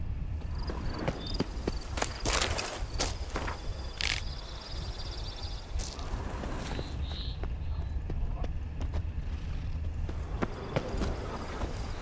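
Horse hooves clopping rhythmically in The Witcher 3 video game, a steady stream of hoofbeats mixed with game ambience and occasional sharper hits, with brief speech.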